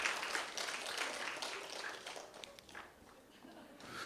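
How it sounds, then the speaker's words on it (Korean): A church congregation at a Friday worship service breaks into scattered applause that gradually tapers off, with voices chattering underneath. "박수 한번 쳐주세요."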